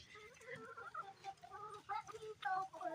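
Farm chickens cluck softly in a series of short, irregular calls nearby, with quiet background noise and no one speaking.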